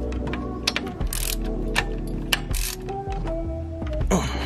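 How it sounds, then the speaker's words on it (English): A ratchet wrench clicks in rapid bursts while loosening a bolt on a Mustang with a swapped 5.0 engine, the close metallic ratcheting pausing and resuming several times with no talk. "I'm going to loose the top bolt from this to get to the next connector"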